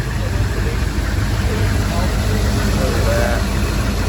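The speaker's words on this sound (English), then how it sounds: "Straight diesel, beautiful." A straight diesel engine idles at an Upstate New York cars and coffee meet, a steady, low rumble under constant outdoor crowd noise, with people talking nearby.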